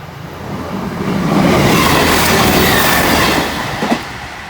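Train passing the lowered barriers at the Doddington Road level crossing, a loud rushing roar with wheel rumble that swells and fades, close by, no talking.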